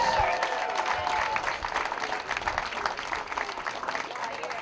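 Crowd applause at dragon boat races, a steady wash of clapping from many spectators sustained throughout, fairly loud and close with no pauses.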